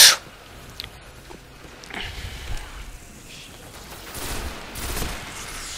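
Weapon fire in the video game Destiny: a sharp loud shot at the start, then several broad booming bursts spaced a second or two apart, with no talk over them.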